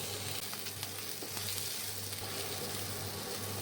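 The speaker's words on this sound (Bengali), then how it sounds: "অল্প লালচে করে ভেজে নেব।" Chopped onions with green chili and a little salt fry in a pan, giving a steady, close, continuous sizzle with faint crackles and no voices.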